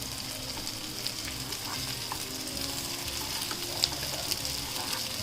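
Shami kebabs fry in a pan with a dense, steady crackling sizzle close by. Occasional small clicks come as the patties are flipped.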